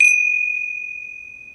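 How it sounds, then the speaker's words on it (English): A single gong struck to open a Hindu puja, one bright strike followed by a long, steady, clear ringing tone that slowly fades, loud and alone. "I'm going to open and close the puja with a gong."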